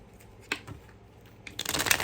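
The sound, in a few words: shuffling a new deck of playing cards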